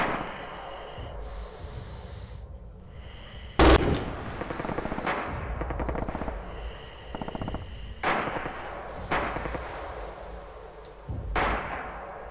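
An MG 42 machine gun in the video game Red Orchestra 2 fires repeated rattling bursts amid trench warfare, with one sharp loud blast and distant gunfire between bursts.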